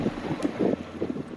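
Wind buffets the microphone aboard a Varianta 65 sailboat in a Force 3–4 northwest breeze, a steady low rumble with gusty swells and faint water sounds, no voices.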